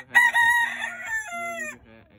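A nine-month-old rooster crows once nearby, a loud, clear call that rises, holds, then trails off into quiet.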